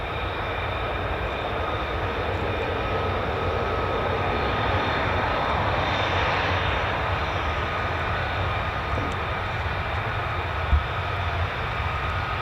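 A fighter jet of the 495th Fighter Squadron at RAF Lakenheath gives a steady, moderately loud engine roar with a thin whine over it, holding even throughout with no talking.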